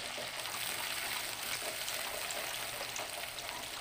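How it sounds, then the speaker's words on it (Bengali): Chopped onions fry in a pan with cumin for a village-style doi potol curry, giving a steady, dense hiss of sizzling oil throughout, close and even with no voices. "পেঁয়াজটা আমি ভালোভাবে প্রথমে ভেজে নিচ্ছি"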